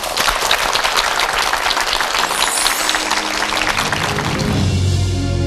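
A studio audience at a televised lecture breaks into strong, dense applause that stays loud and steady, then gives way to a tonal musical sting near the end.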